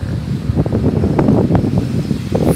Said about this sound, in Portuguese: Nós tivemos um pequeno contratempo aqui, porque está ventando um pouco